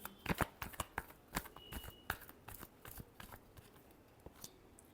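Tarot cards are shuffled by hand in a quick run of crisp riffling flicks and soft slaps, close and fairly quiet, with no talking over them.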